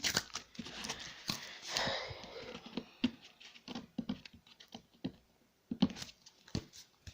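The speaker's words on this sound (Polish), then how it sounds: "Jedna taśma odklejona." Packing tape is peeled off a cardboard box in quick, rasping bursts and tearing strips, with scattered crackles and taps in between, close and fairly loud with no one talking.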